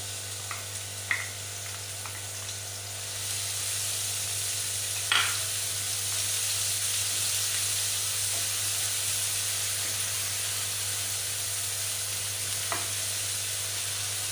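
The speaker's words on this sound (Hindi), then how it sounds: "प्याज को ज़्यादा भूनना नहीं है, 2 से 3 मिनट तक बस ऐसे ही इसे भूनना है।" Onions frying in about two tablespoons of cooking oil in a pan for a chicken bread recipe, giving a steady bright sizzle with a few soft stirring clicks over a low constant hum.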